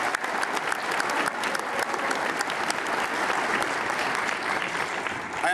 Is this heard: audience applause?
yes